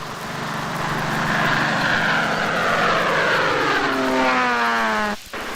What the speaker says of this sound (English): it pays to keep a plane busy dusting.